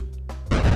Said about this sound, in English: The fire sound effect.